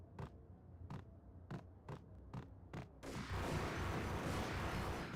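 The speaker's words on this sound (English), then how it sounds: "One of them has a grenade launcher." Enemy grenade launcher in the game Max Payne fires in a run of six sharp, evenly spaced booming shots, then a loud sustained blast and roar of explosions fills the rest.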